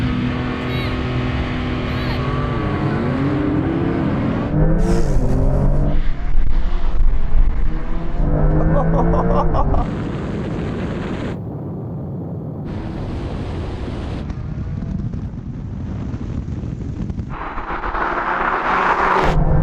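Porsche SUVs, a Macan and a Cayenne GT, launching in a drag race, loud engines revving and roaring away with shifting pitch, interrupted by sharp cuts and wind noise; voices talk at times.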